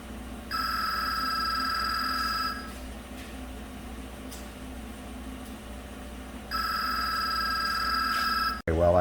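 A telephone rings loudly in two long bursts with a steady electronic tone, set against the idling engine of a 2014 GM truck with a 5.3 GDI V8 running in a workshop.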